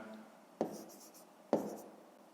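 Two crisp taps of a pen or pencil mark the start of strokes as numbers are written by hand on paper during a fifth-grade maths exercise, each followed by a soft scratching trail, close and quiet.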